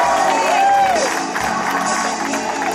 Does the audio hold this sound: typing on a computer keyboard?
no